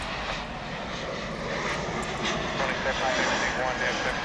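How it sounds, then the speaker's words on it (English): A Frontier airliner jet departing a DFW runway, a loud continuous engine roar building slightly as it climbs, with a voice talking over it throughout. "There's a Frontier flight. It's going to be off to Denver."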